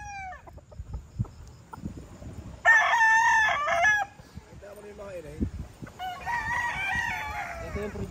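On a gamecock farm, roosters crow in loud, drawn-out calls, one close and another following a few seconds later, among scattered clucks and light background noise.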